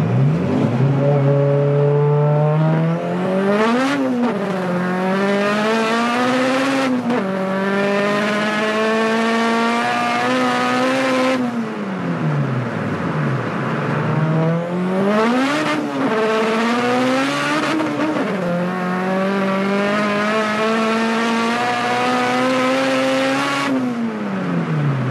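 A 700HP turbocharged B-series VTEC Honda Civic drag car is heard from inside the cabin. The engine screams loudly through the rev range, with sharp upshifts and brief drops between rising pulls.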